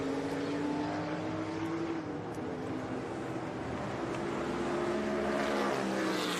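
A race car climbs the banked uphill left-hander at Laguna Seca during the Monterey Reunion historic races, its engine a steady, loud drone with rising harmonic tones as it accelerates through the corner, no voices present.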